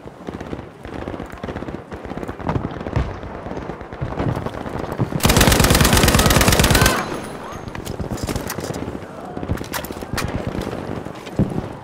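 Gunfire in Battlefield 5 multiplayer, with rapid shots crackling throughout and a dense sustained burst of automatic fire in the middle. Voices are faint underneath.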